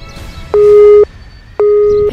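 A phone call fails to connect, giving two loud, steady electronic tones of about half a second each, separated by a short gap, heard clearly over faint background noise.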